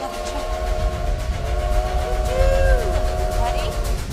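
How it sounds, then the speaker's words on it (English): A train with a drawn-out tonal whistle plays back from a video screen, heard over a rumbling background with voices nearby. "Let's watch the train"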